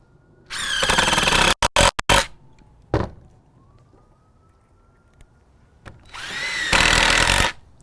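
Dewalt Atomic DCF809 and DCF885 XR impact drivers run back to back, each a loud whining buzz lasting over a second, with short clicks and bursts between and a faint tone in the quiet gap.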